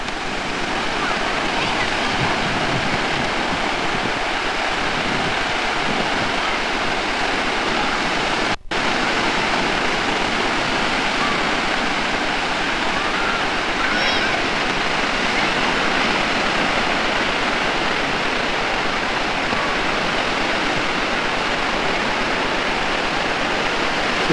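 Sea waves wash onto a long sandy beach several kilometres long at Løkken, Denmark, a steady, loud broadband roar of surf that continues throughout with a brief dropout partway, no voices clearly heard.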